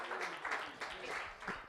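A church congregation applauds in praise, a soft, moderately distant patter of clapping that swells and dips in waves, with a voice speaking over it.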